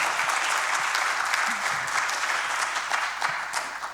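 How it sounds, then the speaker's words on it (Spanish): Sustained audience applause filling a talk hall on leadership, dense and steady from start to finish, with a dip near the middle before swelling again. "Un aplauso."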